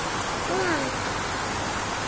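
Heavy rain pouring outdoors, a dense continuous hiss at steady loudness, with a brief faint voice-like tone partway through.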